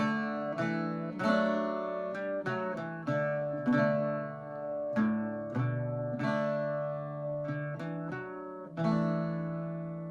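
Irish bouzouki phrase played with doubles and triple drones, a steady run of plucked notes and strummed drone clusters ringing over each other at moderate volume, close and without talk.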